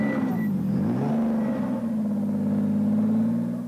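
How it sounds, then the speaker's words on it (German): A rally race car from a 1986 desert rally roars past at night, its engine rising in a loud, sustained drone with a falling pitch sweep as it passes close by, with no voices. "Plötzlich dann, so gegen 4 Uhr morgens, dröhnen die ersten Rennwagen durch die Nacht"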